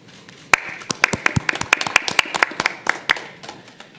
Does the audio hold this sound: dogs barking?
no